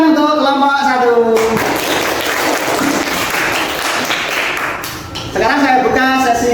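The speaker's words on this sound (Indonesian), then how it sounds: "Tepuk tangan untuk kelompok 1." A classroom of students claps for group 1 during an Islamic religious education lesson: a dense, steady burst of applause lasting about four seconds, with a voice speaking just before and after it.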